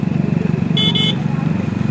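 A motorcycle engine idles steadily close by at a roadside marathon race, with a short two-part horn toot partway through and someone shouting nearby.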